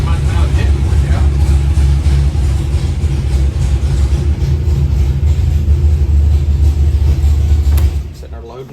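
A 512 cubic inch stroker V8 with a Trick Flow 270 setup idles on a dyno, a loud, rough low rumble that holds steady before dropping away near the end.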